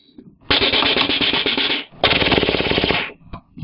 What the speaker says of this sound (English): If I pull it up, you'll see an automorph pull the cannons forward by themselves.